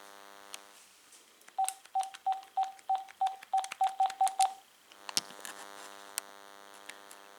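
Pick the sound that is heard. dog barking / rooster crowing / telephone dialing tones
telephone dialing tones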